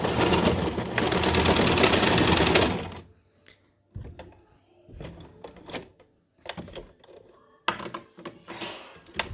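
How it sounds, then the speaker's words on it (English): A sewing machine stitches elastic onto a fabric cover for an N95 mask in a loud, continuous burst of about three seconds, followed by quieter clatter and handling noises at close range. "I sew all the way along this edge."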